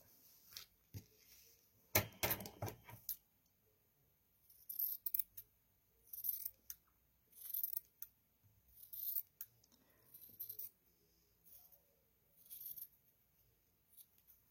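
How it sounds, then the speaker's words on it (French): Scissors snip through paper for a paper-crafting project in a series of quiet, close cuts, with a sharper burst early on followed by short regular snips and pauses. "Et là, je vais couper."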